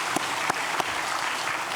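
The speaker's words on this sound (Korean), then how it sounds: "감사의 박수를 하나님께 드리겠습니다." Church congregation applause of thanks to God at a Sunday worship service, a soft, continuous wash of many hands clapping, with a few sharper claps standing out near the start.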